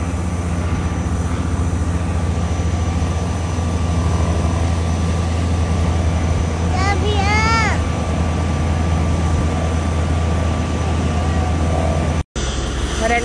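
An airplane overhead gives a broad, steady engine rumble throughout, with a short burst of a high, excited voice partway through and a brief cut near the end.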